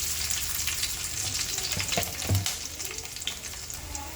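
Cumin, crushed garlic and dried chilies fry in a couple of spoons of oil for an amaranth-leaf fry, giving a steady close sizzle with a few soft stirring clinks and knocks; no one speaks.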